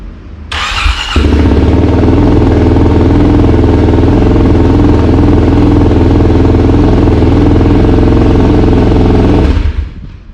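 A 2021 Kawasaki KLX300 motorcycle with a Delkevic exhaust and the baffle fitted fires up with a brief cranking burst, then settles into a loud, steady, close idle that runs unbroken for about eight seconds before cutting off.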